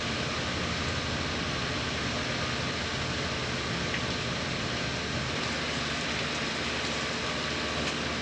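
A steady wash of spraying water hisses without a break as plants are watered in a greenhouse, even and continuous with no voices.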